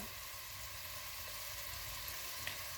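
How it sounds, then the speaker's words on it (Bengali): Chopped onion frying in hot oil at the start of a tehari, a steady close sizzle and crackle with no talking. "এই যে তেলটা গরম হয়ে গেছে এখন পেঁয়াজটা দিয়ে নিলাম পেঁয়াজটা একটু ভাজা ভাজা করে নিব"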